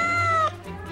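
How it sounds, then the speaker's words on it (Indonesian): A single close, loud cat meow, drawn out and then trailing off. "Ini kucing penjaga nih."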